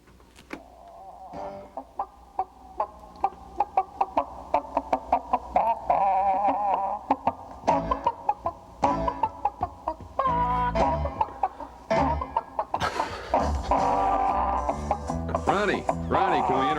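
Chickens cluck and squawk in rhythm to a swing tune, busy clucks and short cackles layered over the music throughout.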